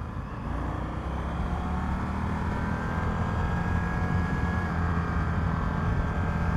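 2020 Indian FTR 1200 Rally motorcycle in second gear at roughly 45 mph and 5,000 rpm, a steady close engine drone mixed with heavy wind rush that holds level throughout, with no speech.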